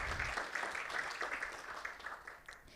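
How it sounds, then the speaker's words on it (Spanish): Applause from an audience at a scientific conference as gifts are handed to presenters, a steady dense patter of clapping that stays even for a few seconds and thins slightly at the end. "Un fuerte aplauso."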